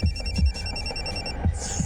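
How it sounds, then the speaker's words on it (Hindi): A phone rings with a steady electronic trill nearby, repeating rapidly for a couple of seconds, with a low rumble and a few thumps underneath. "घंटी जा रही है।"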